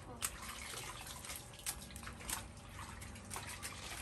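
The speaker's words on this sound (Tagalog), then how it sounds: "Naglaro na siya ng tubig." A child splashes and plays with water, giving scattered splashes and drips over a low background, with faint voices nearby.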